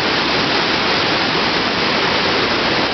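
A waterfall on the upper circuit at the Argentine falls roars as a dense, unbroken wash of loud, close noise that stays steady throughout, with no voices heard.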